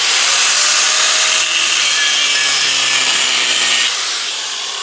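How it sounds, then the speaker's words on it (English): An angle grinder cuts through a metal ferrule in a workshop shed, a loud, harsh, continuous gritty hiss that holds steady for several seconds before dropping off abruptly near the end. "Just get an angle grinder."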